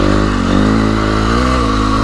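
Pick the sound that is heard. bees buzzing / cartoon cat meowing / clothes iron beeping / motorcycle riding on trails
motorcycle riding on trails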